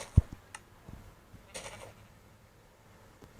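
A sheep in the Minecraft Pocket Edition video game bleats in short, faint, scattered calls mixed with soft game clicks and a muffled thud, heard with no voices.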